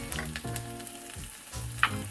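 Garlic, about three cloves, hitting a hot wok, a close sizzle with brief stirring scrapes over a short stretch, no voices.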